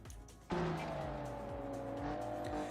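Race car engines at Imola in BeamNG K-Series racing surge in abruptly and hold a loud, droning whine whose pitch rises and dips as the cars shift gears and pass.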